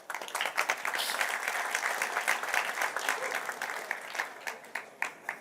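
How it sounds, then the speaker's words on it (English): Audience applause rises at an Angular developer conference talk in Tel Aviv, a steady wash of many hands clapping for several seconds before thinning into scattered claps at the end. "This is when you clap."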